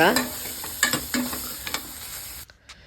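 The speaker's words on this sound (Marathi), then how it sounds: "त्याला 1-2 मिनटं व्यवस्थित मी परत परतून घेते आहे." Chopped onion stirred and frying slowly in a pan over low heat, with a soft continuous sizzle and a few distinct scraping strokes of the spoon, close and steady, ending in near silence.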